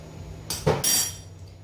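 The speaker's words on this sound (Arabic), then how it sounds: "وغادي نعاود نخلط مزيان حتى ينسجم الخل مع الخليط" Vinegar is stirred into cake batter in a bowl, with a short sequence of utensil scrapes and a metallic clink against the bowl, close and brief.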